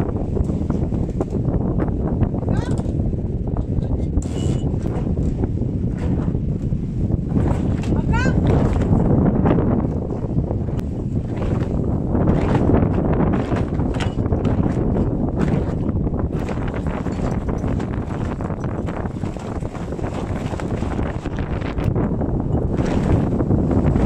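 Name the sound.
strong wind at sea on sailboat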